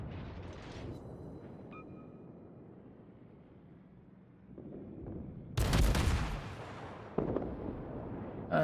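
Warship main guns firing salvos in World of Warships, heavy booming blasts over a constant rumbling naval battle, with a big roaring salvo midway and another sharp report shortly after.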